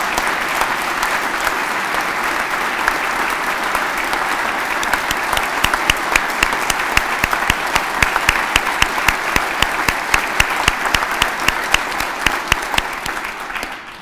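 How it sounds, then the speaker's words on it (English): Sustained audience applause fills a state capitol chamber during South Dakota's 2022 State of the State address, steady and loud throughout with sharper individual claps standing out as it continues. "Now, Senator Castleberry, you got to clap for her."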